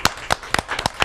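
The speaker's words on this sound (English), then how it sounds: "Let's give Zach and Rachel another huge round of applause." A small audience claps in a quick, sparse round of applause at a talk show, a handful of sharp separate hand claps close by.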